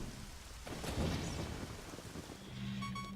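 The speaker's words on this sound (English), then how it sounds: "we'll let it rain in the dungeon" Steady rain hisses with a low rumble of thunder swelling and fading in the Shadow Temple of The Legend of Zelda: Ocarina of Time Master Quest, followed by faint electronic tones near the end.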